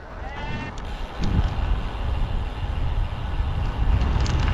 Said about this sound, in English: Here's my sheep, look.